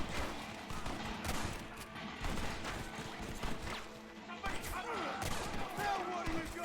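Rapid gunfire in the Western video game Red Dead Redemption: a steady barrage of overlapping shots and thuds, with sharper bursts around the second and fifth seconds and battle noise throughout.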